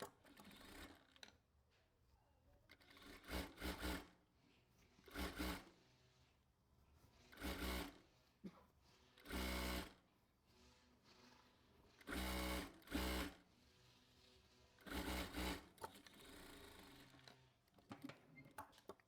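Sewing machine hemming the sleeve of a dress, several loud bursts of rapid whirring stitching separated by quieter pauses with faint handling noise.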